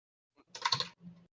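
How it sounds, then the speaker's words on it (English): Clacky mechanical keyboard switches give a short burst of rapid keystrokes, close and crisp, followed by a couple of softer taps. "thank you very much, Sophia, for your clacking in the background"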